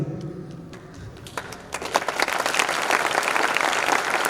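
Clapping from a training camp audience in Pune starts as a few scattered, sparse claps, then swells into full, dense applause from the whole crowd that holds steady to the end.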